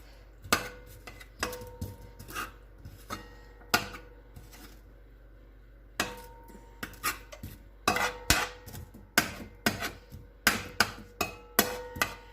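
Repeated sharp clinks and taps of a utensil against a pan while onions and garlic are broken up, irregular bursts spread across the stretch, close and fairly loud, no voices.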